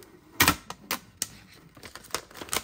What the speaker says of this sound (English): Just gonna pull this sticker off.